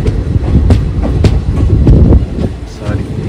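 A passenger train running through the Nallamala forest between Kurnool and Giddalur, with a steady low rumble and rhythmic clacking of wheels over the rails, heard from inside the carriage.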